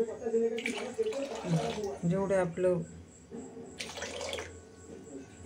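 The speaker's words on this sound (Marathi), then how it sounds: "हे आपण असं टाकून घेऊ पाणी" Water splashes and trickles in short bursts as it's poured and mixed into wheat bran flour, while a person talks over it.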